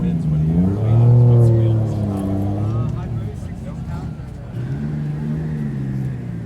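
A twin turbo Acura NSX NA2 revs nearby at a cars and coffee meet, the engine note rising and falling steadily over a continuous low rumble and holding close and loud throughout.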